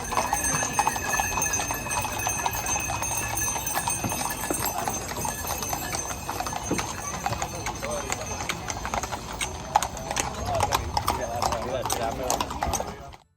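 Horse-drawn carriages in a romería procession heading up to a sanctuary, with hooves clip-clopping in an uneven stream alongside bells jingling and crowd voices and talk throughout.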